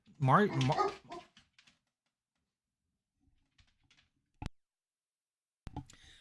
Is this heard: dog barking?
yes